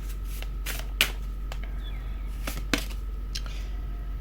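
Tarot cards being shuffled by hand, a series of short crisp riffling and tapping bursts at irregular intervals over a constant low hum, with no talk.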